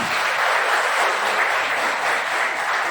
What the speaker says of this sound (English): So big round of applause for the School of Management.